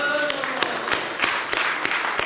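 An audience at a Polish commemorative event claps, a continuous crackle of applause with sharper individual claps standing out at a regular pace, while a voice talks over it.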